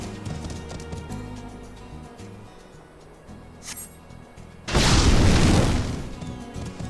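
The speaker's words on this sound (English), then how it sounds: "Here we go, barrels of fire sand." Barrels of fire sand explode in Final Fantasy XIV: after hoofbeats from a mount and light game ambience, a loud, sudden blast erupts and rumbles for about two seconds before fading.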